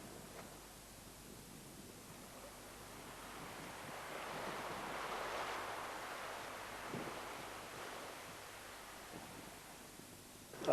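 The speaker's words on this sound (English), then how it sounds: "I stopped to look at the glistening sea and paddle in the cooling water" Sea waves wash onto a British shore, a steady broadband surf that swells and recedes over several seconds, heard alone with light wind noise and no talk.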